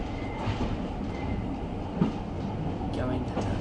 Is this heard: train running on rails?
yes